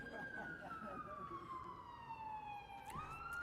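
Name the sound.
ambulance siren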